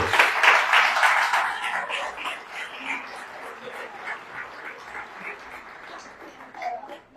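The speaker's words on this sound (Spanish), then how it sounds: "Den un aplauso al Señor, que está muy calladito." Church congregation clapping together during a service, a dense continuous wash of applause loudest at the start and slowly easing off, with a few voices calling out beneath it.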